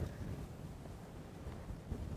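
Wind buffets the microphone on an open safari drive, producing a soft, continuous low rush with small gusty swells and no voices.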